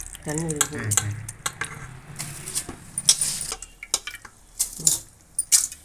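Seeraga samba rice for mushroom biryani is tipped into boiling water and stirred, giving scraping and clinking of a spoon against a metal pot with bubbling, while a person's voice is heard in the background.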